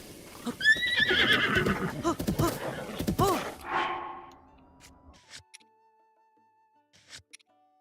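A horse neighs loudly in the Rayman video game, with a rising whinny and clip-clopping in the first few seconds, then fading into quiet game ambience with a steady tone and sparse clicks.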